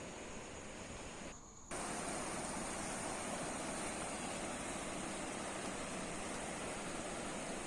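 Floodwater rushes through a wide stream near a flood-hit village, a loud continuous roar that briefly dips before returning at full strength.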